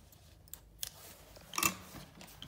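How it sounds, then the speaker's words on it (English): Scissors snipping through a piece of 3mm flexible hose, a few quiet close-up blade closes ending in one sharper, crisp cut. "I'm going to take some of the 3mm inch hose and cut off two pieces"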